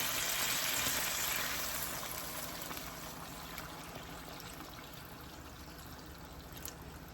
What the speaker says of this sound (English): And some water.